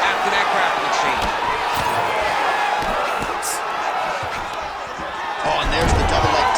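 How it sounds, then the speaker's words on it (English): An arena crowd in the video game EA Sports UFC 5 applauds and cheers during a Nick Diaz vs. Brendan Allen bout, a loud, continuous roar with thuds and shouts. Commentary plays over it. "they can take in the applause because they deserve it after that grappling exchange"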